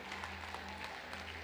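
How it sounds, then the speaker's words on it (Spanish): A church congregation applauding at a Spanish-language evangelical service, a quiet, steady patter of clapping heard from a distance, with a low hum underneath. "Vamos a darle un aplauso a Dios por ello."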